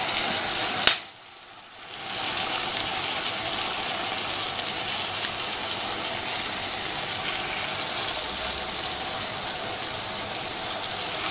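Carrots frying in a hot pan give a steady, broad sizzle close by, starting with a short sharp hit and a brief dip before the crackle settles into a continuous hiss.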